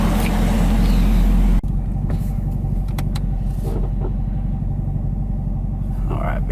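A 2019 Chevrolet Camaro ZL1 1LE fitted with a Roto-Fab cold air intake pulls away, a deep steady engine rumble heard from inside the car, with a voice talking over it.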